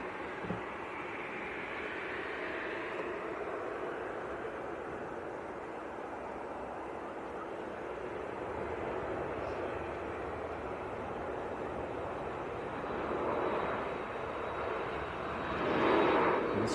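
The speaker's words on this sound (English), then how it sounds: "This is Ryanair from Seville in Spain. And that is a 738 MAX." A Ryanair Boeing 737 MAX from Seville in Spain makes a steady, broad jet roar at Manchester Airport that swells slightly toward the end.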